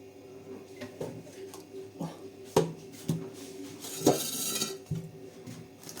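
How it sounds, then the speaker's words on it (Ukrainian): Strawberry-banana juice ladled from a large pot into a glass jar, with clinks of the metal ladle against glass and soft pouring splashes at irregular intervals, close by. "Наливаю ополоником в банку."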